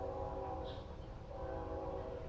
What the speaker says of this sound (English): train sound in the background